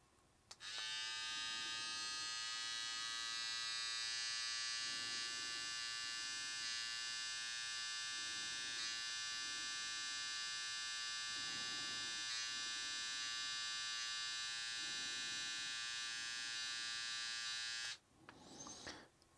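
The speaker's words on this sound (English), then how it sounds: "let's see what we get with the trimmer on the high speed" A BaByliss x Tomb 45 hair trimmer runs at its high speed setting, a steady, close electric buzz with a bright whine that holds evenly for about seventeen seconds and then cuts off.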